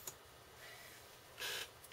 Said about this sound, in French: vous entendez les touches de mon clavier